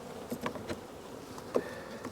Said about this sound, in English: It's getting warm, so the bees are a little more active now.